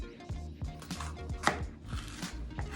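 A knife cuts a green pepper on a cutting board, sharp regular chopping knocks repeating in a quick steady rhythm, close and fairly quiet.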